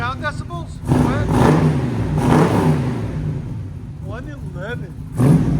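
Close and loud, a 1966 Chevy Nova II four-door V8 with MagnaFlow mufflers on a true dual 2.5-inch exhaust sustains a long rev, eases back to a throbbing idle, then blips again at the end.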